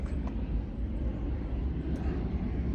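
A jet airliner at Detroit airport rumbles steadily overhead, a broad low roar that holds even through the moment with a faint hiss above it.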